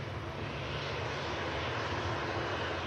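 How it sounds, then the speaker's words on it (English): A Ryanair airliner taking off at Manchester Airport, its engines a steady, loud, broadband roar with deep rumble that holds unbroken throughout. "It's about to come off in front of us, this Ryanair, just about to make it"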